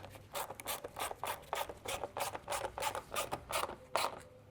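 T30 screws driven by hand into a plastic radiator support on an Audi A4, a quick run of short, rhythmic rasping and ratcheting strokes close to the microphone, with no talking.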